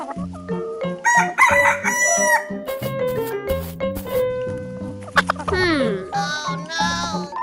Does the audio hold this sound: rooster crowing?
yes